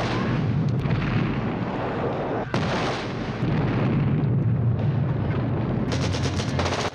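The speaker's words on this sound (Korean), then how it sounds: "폭발이 시작되고" Loud, continuous roar of C4 explosions and blasts in an action film, with dense rumbling booms and crackling bursts filling the whole stretch, and sharper rapid cracks toward the end.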